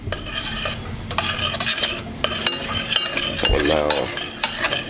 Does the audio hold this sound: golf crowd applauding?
no